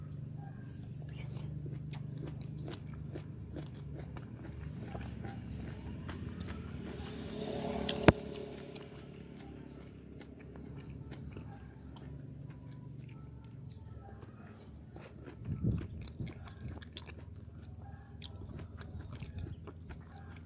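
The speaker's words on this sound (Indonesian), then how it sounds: "Jadi kita ngunyah tuh masih ada teksturnya," Chewing crunchy, firm fresh papaya close to the mic, with a quiet run of soft bites and mouth crunches, a sharp click near the middle and a louder crunch later, without talk.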